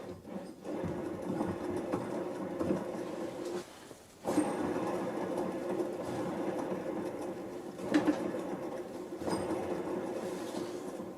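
Worn bearings in a wood lathe turning with the belt removed, a continuous rough rumbling, rattly whir with a faint clicking texture, steady and close across about eleven seconds.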